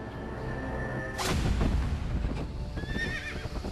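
A horse lets out a loud whinny over the dull thud of hooves, with a heavy rumbling swell in the middle, a second shrill neigh near the end and steady background noise throughout.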